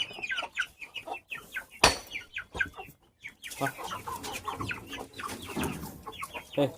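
Chickens, including Peruvidai country fowl, cluck and chatter in short repeated bursts close by, with a sharper squawk partway through and quiet intermittent talk underneath.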